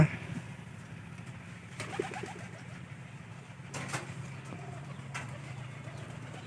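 Soft, low cooing of a giribaz cross pigeon near a loft, with faint wing flutters and small background knocks; quiet and intermittent, no talk.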